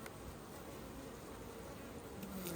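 Honeybees crowd an opened, packed hive box, their dense, continuous buzzing close and fairly quiet, with no voices.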